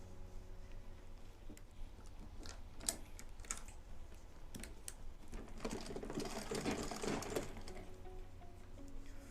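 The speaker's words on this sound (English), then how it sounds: "Once you're done stitching, you fold and sew," A sewing machine stitches leather for a handbag, running as a steady, fairly quiet mechanical whirr with rapid needle ticking and no speech over it.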